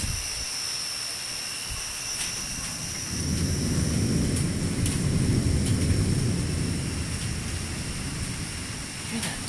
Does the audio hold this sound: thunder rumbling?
yes